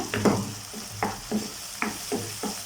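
Cooked tomatoes are mashed in a pan for a mutton kulambu, producing a series of soft, spaced thuds and scrapes over a faint sizzle, close and fairly quiet, with no talking.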